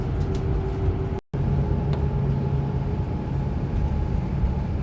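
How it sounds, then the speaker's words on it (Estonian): Bus driving toward Füssen station in Bavaria, heard from inside as a steady engine drone and road rumble with a low hum, continuous apart from a brief dropout. "Bussis ja sõidan Füssen Bahnhofi suunas."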